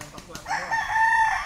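A rooster crows once nearby in a rural Philippine setting, the call rising and holding for about a second after a few soft background sounds, moderately loud and alone.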